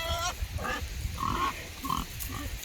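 Pigs at feeding time on a windy farm, several close grunts and squeals in short bursts, fairly quiet and overlapping, with wind noise underneath.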